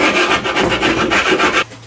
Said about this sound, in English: I think I'm just going to give it a sanding and flip it over.